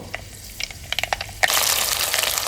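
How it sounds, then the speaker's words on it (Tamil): Mustard seeds and fenugreek spluttering in hot sesame oil for a brinjal tamarind curry: a few scattered pops at first, then a sudden loud, continuous crackling burst that carries on steadily, close up with no talking. "கடுகு வெந்தயம் நல்லா பொரியட்டும்"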